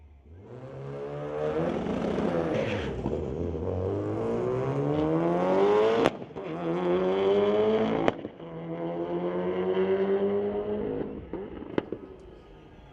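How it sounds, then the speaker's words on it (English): A Mitsubishi Lancer launches down a drag strip at Mission Raceway Park during a street-legal night event, its engine climbing through several loud rising gear pulls, each shift marked by a sharp pop, before fading away down the track. "So the Mitsubishi going to fire down track"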